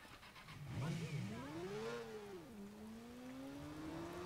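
A motorcycle engine in Watch Dogs revs up with a rising, swooping whine, then settles into a steady mid-pitched drone. It is fairly faint and smooth, with no talking.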